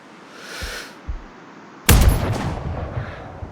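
A single sharp, heavy sniper rifle shot from Sniper Ghost Warrior Contracts, a video game, cracks loudly after a quiet stretch with faint movement sounds, then rings out in a fading echo.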